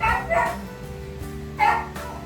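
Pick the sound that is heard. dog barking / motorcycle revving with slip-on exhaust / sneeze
dog barking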